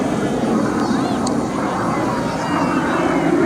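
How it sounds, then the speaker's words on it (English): An L-39 Albatros jet flies overhead at an air show, its engine a loud, steady broadband roar that stays constant throughout without fading. "you see Art up there maneuvering the aircraft and making it look very, very easy"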